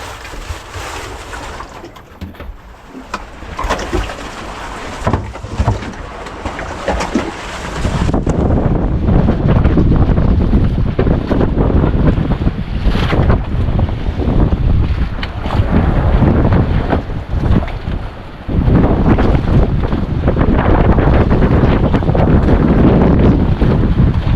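Strong wind buffets the microphone aboard a boat on open water, a loud continuous roar with waves and engine noise that grows heavier partway through, no talking.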